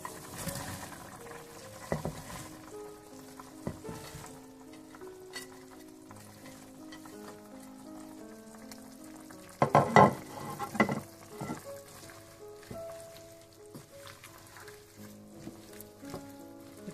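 Vegetables for chilli chicken stirred in a pan with chicken stock, a soft sizzle under steady background music, with a louder burst of scraping and stirring midway.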